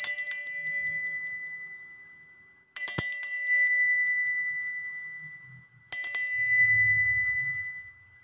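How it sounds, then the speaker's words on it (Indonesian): A hand bell rung three times to open a card reading, each bright strike spaced about three seconds apart and left to ring out and fade, with a faint low murmur in the background. "Oke, kita akan memulai dengan lonceng berbunyi."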